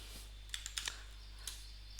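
A few quick, light clicks of keys on a computer keyboard as a web address is entered, sparse and soft against a low steady hum, with no voices.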